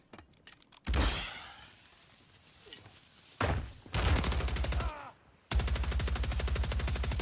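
Akimbo WSP Stinger pistols firing in Warzone 3, loud, close bursts of rapid fire separated by short pauses, then a long sustained burst to finish, with no talking.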